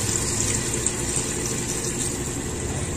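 Water is poured steadily into a cooking pot of chicken and tuna being simmered, a continuous close rushing splash with no talk.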